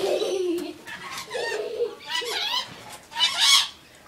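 Baby budgies chirping in a few short, clustered bursts of high warbling calls, close and fairly loud, separated by brief pauses.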